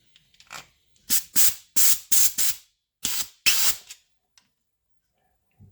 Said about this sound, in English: I've got to apply a little bit of compressed air to the back side.